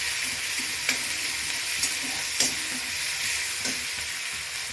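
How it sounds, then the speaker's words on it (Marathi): Onions sautéing over a high flame for street-style poha give off a steady, close sizzle, broken by a few soft scrapes and taps of stirring. "आता याला 1-2 मिनिटं मोठ्या गॅसवर परतून घ्यायचं।"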